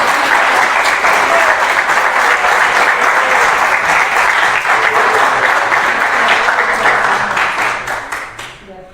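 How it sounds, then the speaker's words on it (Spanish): Loud sustained applause from a church congregation during a Spanish-language sermon, a thick continuous roar of many hands that fades out near the end. "Yo creo que se merece un fuerte aplauso"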